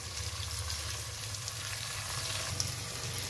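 Chopped onion and a dozen garlic cloves fry in hot oil for a beef dahi gosht, giving a steady, close sizzle and crackle with no talking.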